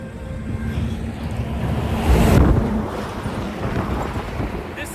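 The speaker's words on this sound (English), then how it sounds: "and this is the dam." Water rushes at a river dam in a steady, broad roar that swells briefly around the middle before settling back. It is heard outdoors with no speech.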